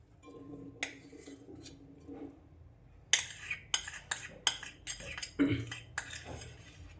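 Thick milk cream being spooned from a container into a pan to make homemade ghee, with a series of sharp metal clinks and scrapes from the spoon against the vessels, sparse at first and then coming quickly together.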